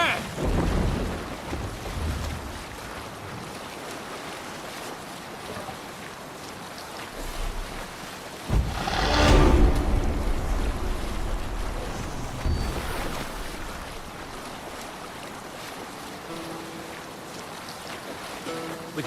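A longship sails out across the sea in Assassin's Creed Valhalla, with a steady roar of wind and rushing waves, a loud surging swell midway, and sustained water noise throughout.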